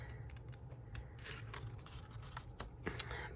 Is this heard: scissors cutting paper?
yes